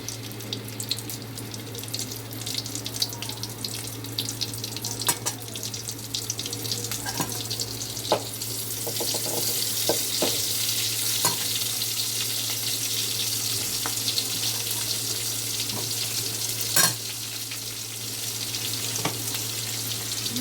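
Green chillies and onions fry in hot oil in a home kitchen, a steady broad sizzle that runs throughout, brightening midway, with a low hum underneath and occasional clinks of a utensil.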